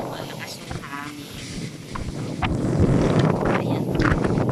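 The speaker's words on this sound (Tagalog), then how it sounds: "pinakita ko lang sa inyo kung iyan ang malakas yung hangin." Strong wind gusting outdoors, a broad roaring rush against the microphone that grows louder and denser in the second half, with brief voices mixed in.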